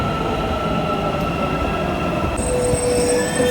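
A metro train runs along its rails with a loud, steady rumble, and high, thin wheel squeals ring out on top. Sharper new squeals join near the end, and no one talks.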